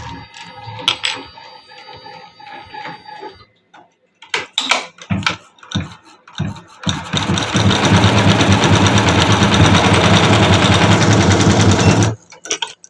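A computer embroidery machine stitches a design, starting after some scattered clicks and taps, then running in a loud, continuous rapid whirr for several seconds before stopping abruptly.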